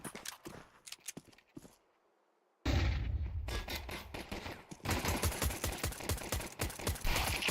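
Rapid gunfire crackles through a Counter-Strike pistol round in a professional esports match, with bursts of tapped shots, a short quiet gap, then dense overlapping fire continuing loud to the end.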